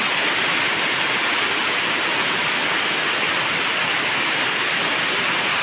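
Flood water rushes steadily and loudly after heavy rain, a dense, unbroken roar that holds at an even level throughout with no voices.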